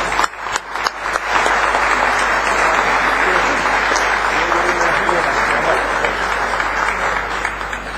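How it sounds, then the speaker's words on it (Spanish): Audience applause for a pianist and his wife at a gathering, dense clapping from a crowd that starts after a brief moment and stays loud and even for several seconds, with voices faintly mixed in. "Un fuerte aplauso."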